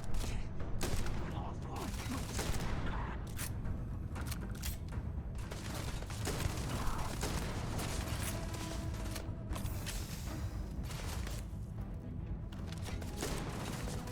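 Video game gunfire in Starfield on very hard difficulty, with dense bursts of shots and impacts rattling continuously at a steady level amid mechanical clanks and game sounds.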